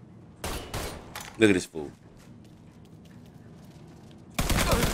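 Gunfire from the Mafia 3 Definitive Edition video game, a few sharp shots early followed by a dense burst near the end, mixed with someone talking.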